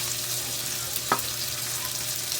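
Tofu frying in a pan, a soft steady sizzle with faint background hiss and one brief sharp pop or clink near the middle, no voices.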